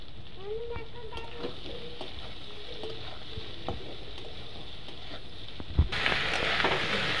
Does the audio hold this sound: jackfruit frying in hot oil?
yes